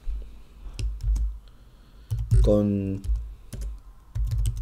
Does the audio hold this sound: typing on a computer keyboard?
yes